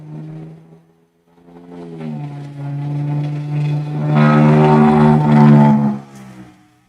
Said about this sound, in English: God, that sounded bad. Toyota straight pipe V6.